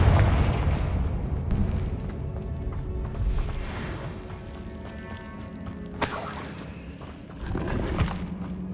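Confringo blasting spell cast in the Hogwarts Legacy video game: dense booming, crackling bursts with a sharp blast near six seconds and another rumble near the end, dense and fairly loud throughout.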